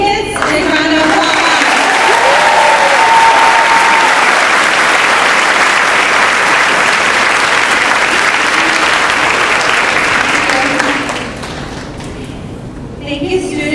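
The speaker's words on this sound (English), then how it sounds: "Let's give all these kids a big round of applause." A large school audience at Locke High School gives the kids a long, loud round of applause, a dense wash of clapping that holds steady for about eleven seconds before fading, with a few voices mixed in.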